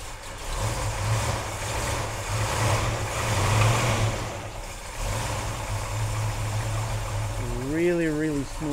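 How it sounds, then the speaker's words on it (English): A 1967 Chevrolet Chevelle Convertible SS clone engine runs steadily after a cold start, a low continuous rumble at moderate distance, with a voice briefly speaking near the end. "The engine sounds beautiful."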